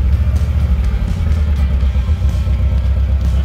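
Engine of a cheap Chevrolet Caravan running rough after air entered the fuel line, a close, loud low rumble with uneven clattering pulses and slight surging, no talking over it.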